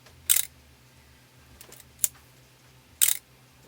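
An Asahi Pentax Spotmatic SP black film camera with a fault at slow shutter speeds, firing sharp mechanical shutter clicks, three distinct snaps with a softer click between, close and isolated in a quiet room.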